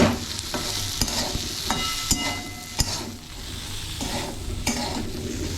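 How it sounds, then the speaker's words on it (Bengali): Vegetables sizzle in a hot pan while a utensil scrapes and clicks against it in irregular stirring strokes. The frying stays close and steady throughout, with no talking. "সবজিগুলো একটু ভাজা ভাজা হয়ে গেছে, তো এর মধ্যে আমি আন্দাজ মতো নুন দিয়ে দিচ্ছি।"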